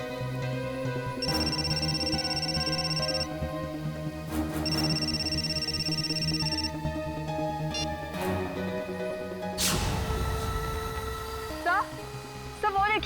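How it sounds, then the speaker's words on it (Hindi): A telephone rings in two bursts of shrill electronic trilling, each about two seconds long, among music, clatter and a loud crash, with voices speaking in a tense scene. "सिद्धार्थ का फोन"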